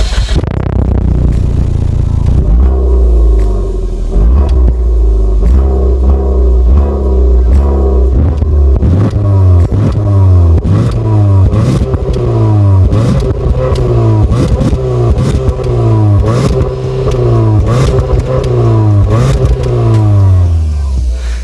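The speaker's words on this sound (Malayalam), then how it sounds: "അപ്പോൾ നമുക്ക് ഈ ഒരു വാഹനത്തിന്റെ എക്സോസ്റ്റ് നോട്ടൊന്ന് കേട്ട് നോക്കാം" A 2020 Maruti Suzuki Ertiga AT VXI BS6 revs repeatedly from idle, its exhaust note climbing and falling in a regular series of loud, close surges over a steady engine drone.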